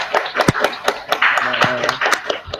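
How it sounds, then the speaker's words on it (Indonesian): Students in a classroom give a short round of applause to classmates who performed an anti-bullying sociodrama. The irregular hand claps are fairly close and last a couple of seconds. "kita beri tepuk tangan yang meriah untuk para pemain ya"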